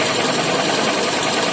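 Honda Unicorn motorcycle engine idling after a carburettor air-screw adjustment, a fast, even mechanical rattle and hum that runs steady and close with no talk.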